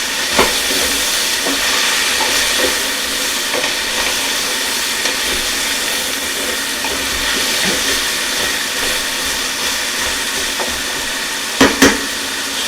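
Butternut squash cooking in a covered pot on a stovetop, giving a steady sizzling hiss with a few clinks of a utensil near the end.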